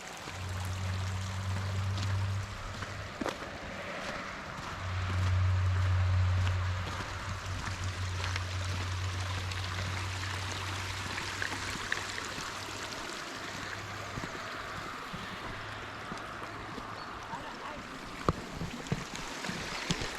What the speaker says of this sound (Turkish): kar suları akıyor